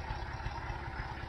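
A tractor engine runs at a steady idle, a low continuous rumble with a slight throb, fairly quiet and alone over a brief moment.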